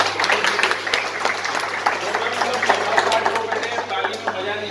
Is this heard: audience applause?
yes